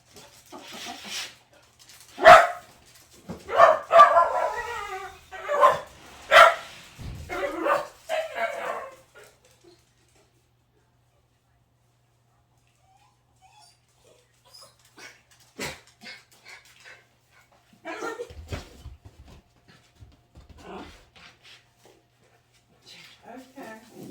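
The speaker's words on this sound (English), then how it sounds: "The dog is barking because somebody's walking in the yard" A dog barks at someone walking in a yard, with a burst of sharp, close barks and yips early on, then quieter scattered barks and whines later, mixed with a person talking.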